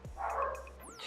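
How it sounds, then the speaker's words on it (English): Dogs bark at a neighbor, a short burst of yips and barks at moderate distance, heard alone with a low hum beneath. "my dogs are barking."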